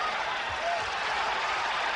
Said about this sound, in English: The crowd erupts every time Duran throws something